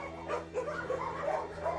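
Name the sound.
dog whimpering and barking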